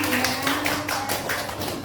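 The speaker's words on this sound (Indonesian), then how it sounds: "Tepuk tangan untuk Bu Yani" A group claps for Bu Yani in a teachers' session, a short rhythmic burst of hands beating in pulses, with a faint steady hum underneath.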